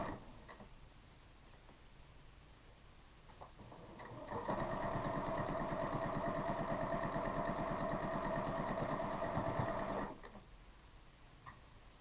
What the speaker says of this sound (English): Now I have my sewing machine turned down a little bit so it's not too loud